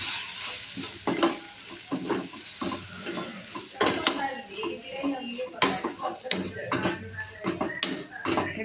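Poha is stirred with spices in a pan, a spoon scraping and clinking against the metal in irregular repeated strokes over a soft sizzle, close and fairly loud; no voices.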